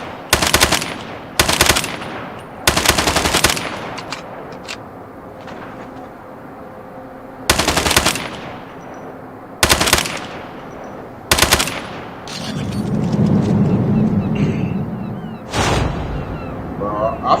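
Automatic gunfire from an SMG in the mobile shooter Call of Duty Mobile comes in loud, rapid bursts, roughly seven separate volleys spaced by short pauses, with a rumbling blast partway through.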